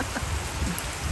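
Rain falling outdoors on a lawn that was being mowed, heard as a brief, dense, steady wash of noise, close and fairly loud, with no speech.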